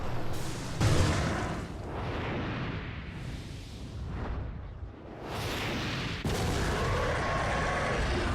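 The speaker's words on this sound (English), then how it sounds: "that's when you're going to want to shoot this rocket launcher" A rocket launcher fires and its rocket explodes in Resident Evil 4, heavy booming blasts followed by long, rumbling roars that rise and fall over several seconds.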